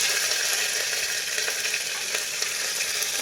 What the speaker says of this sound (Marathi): हे सगळं छान तडतडायला लागलेलं आहे